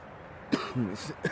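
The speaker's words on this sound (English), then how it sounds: "Excuse the cough again." A short, close cough followed by a brief throat clearing, quiet and alone.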